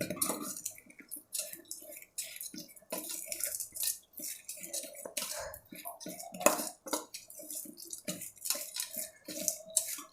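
A spoon mixes grated coconut into hot flattened rice (avalakki) in a metal pot, making faint, irregular clinks and scrapes against the vessel, with short pauses between strokes.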